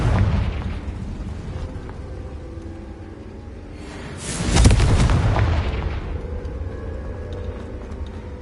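A Confringo fire spell bursts in the game Hogwarts Legacy: a single loud, booming explosion with a rushing, crackling blast that swells midway and fades into a low rumble over steady game ambience, with no talking.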